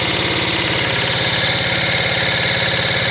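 A motorcycle engine runs on hand choke with a loud, close, steady rapid chugging pulse and a rough mechanical rattle, unbroken throughout.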